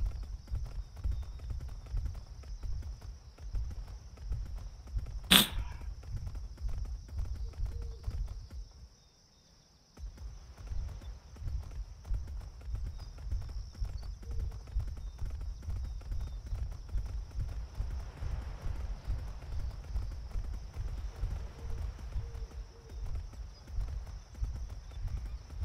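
In the video game Atlas, horse hooves clip-clop in a steady, continuous rhythm over faint insect chirps. A brief sharp sound cuts in early, and the hoofbeats drop out for a moment before resuming.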